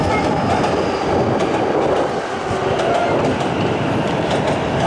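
A Keihin-Tohoku Line train runs past close by, a steady loud rumble with rhythmic wheel clicks over rail joints and faint squeal, no voices.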